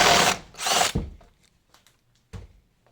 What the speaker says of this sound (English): So just run your drill bit up and down just until you clear enough space.